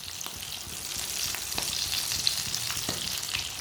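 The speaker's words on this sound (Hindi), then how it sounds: "अब ये वाली साइड से भी 1 मिनट तक पकने देते हैं, बाद में उलटाएंगे।" Potato and pea tikkis fry in a pan with a steady close sizzle and light crackle, oil bubbling evenly throughout with no voices.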